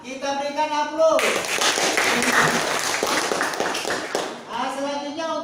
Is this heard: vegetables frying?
no